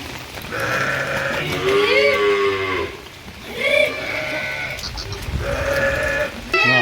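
Sheep in a village herd in rural Gujarat bleat repeatedly, loud and close, with long wavering calls overlapping one another above a low outdoor murmur.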